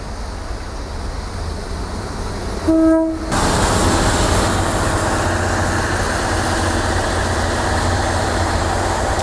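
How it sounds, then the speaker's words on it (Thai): A Kiha 183 diesel special train arrives at platform 1 of Prachinburi station in Thailand. It gives one loud horn blast, followed by a steady, close rumble of the railcars rolling in. "ขบวนพิเศษที่ 989 ขีฮะ 183 นะครับกรุงเทพปราจีนบุรี กำลังเข้าสู่ชานชลาที่ 1 สถานีปราจีนบุรี"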